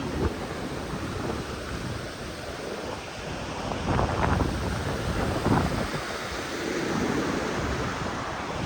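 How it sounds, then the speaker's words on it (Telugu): Steady broadband rush of river water in Ladakh, loud and continuous, with wind buffeting the microphone and no voices. "ఇక్కడ చూడండి వాటర్ ఫ్లో ఎట్లా ఉందో"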